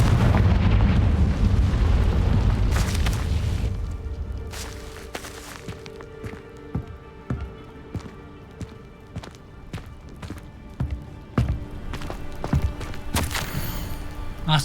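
A loud fiery blast from the Confringo spell in the video game Hogwarts Legacy, rumbling heavily at first and fading into scattered impacts, footstep-like thuds and sharp game effects.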